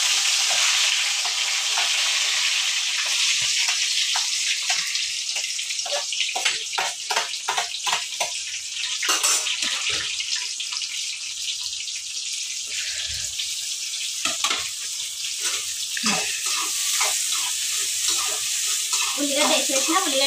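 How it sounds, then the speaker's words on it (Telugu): Onions sizzle and fry steadily in hot oil for Telugu home cooking, a continuous loud hiss broken by stirring scrapes and brief crackles throughout, with no talking. "ఉల్లిగడ్డ అయితే కొంచెం దూరం వేగాలి"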